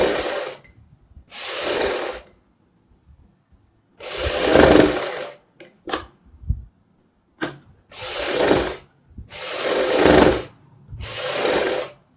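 Sewing machine stitching the boat neck of a kurti, running in several bursts of a few seconds each, separated by short pauses and a few faint clicks, close and fairly loud with no talking.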